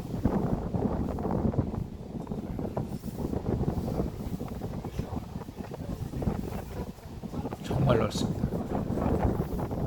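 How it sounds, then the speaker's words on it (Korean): Strong wind roars and buffets the microphone high atop a tower overlooking a wide lake, a steady rushing gust throughout, with a person speaking briefly over it. "그래서 바람 소리가 다 들리죠."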